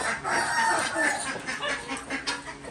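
Chickens clucking steadily nearby on a farm with a busy, layered flock sound; no clear crow stands out, just continuous cackling and chatter.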